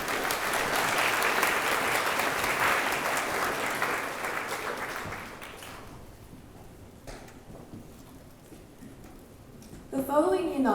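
A school awards ceremony audience applauds year 9 award-winning students, a broad hall-wide clatter of clapping that swells, holds for several seconds, then fades away before a voice begins speaking into a microphone.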